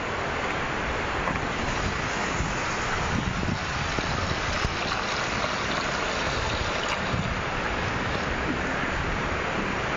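Water rushes and flows steadily in a rural area near Bucaramanga, a loud continuous wash mixed with wind buffeting the microphone, with no voices.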